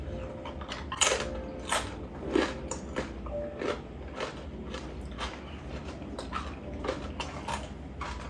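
Crispy roast pork pernil skin being bitten and broken apart, giving several sharp crackly crunches close up, the loudest bursts near the start, then softer crackles and small scrapes with no one talking.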